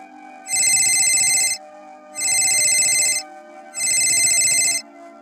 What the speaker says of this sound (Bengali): কিন্তু আবার বেজে উঠল মোবাইল ফোনটা।